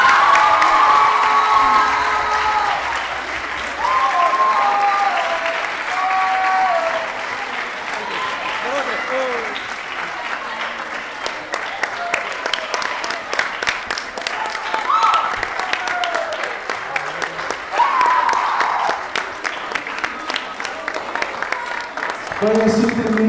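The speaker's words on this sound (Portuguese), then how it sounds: "uma salva de palmas para o grupo." An audience applauds a school theatre club after a performance, loud continuous clapping with cheers and whoops mixed in, voices rising over it near the end.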